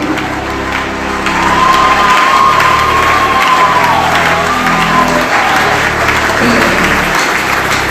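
A church congregation bursts into sustained applause and cheering, loud and dense from about one second on, with shouting voices and a prolonged whistle-like cry rising over the clapping crowd.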